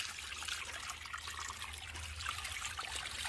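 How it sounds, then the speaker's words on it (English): Liquid biogas fertiliser poured onto a compost heap, a faint continuous splashing trickle under a low hum for a few seconds. "what I'm going to do is carry this over to my compost and pour the fertilizer on the compost"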